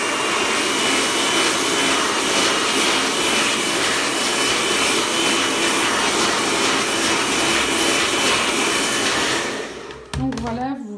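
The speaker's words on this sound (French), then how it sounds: "Je prends mon sèche-cheveux, c'est pour ça qu'il est important de ne pas l'oublier." A handheld hair dryer blows steadily and loudly over wrinkled clothes, a continuous close-up roar of rushing air that holds for about ten seconds before cutting off, followed by a brief clatter.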